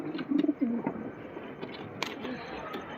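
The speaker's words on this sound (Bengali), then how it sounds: "পায়রাটা খুব ভালো পায়রা।" Domestic pigeons of a good bloodline coo in a low, soft burst near the start, with faint later murmurs against background noise.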